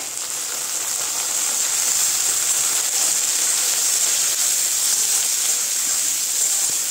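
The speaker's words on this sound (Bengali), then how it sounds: "এখন টমেটো আর পেঁয়াজটা এখন দুইটাই ভাজা হবে ভালো করে।" Chopped tomatoes and lightly browned onions fry together in a pan for a Bengali chana dal with soya bean, producing a constant, fairly loud hissing sizzle that stays even throughout.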